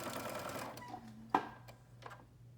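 A sewing machine stitches along the casing of a fabric bag in a quiet room, running in a fast, even hum for about a second before a sharp clack as it stops, then faint handling clicks.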